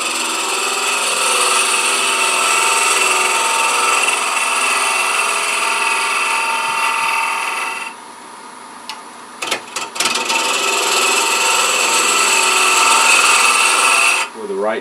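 A wood lathe spins while a Dale Nish style scraper hollows out a turned wooden box, giving a continuous close rasping cut. It pauses briefly near the middle with a few clicks, then resumes before tapering off.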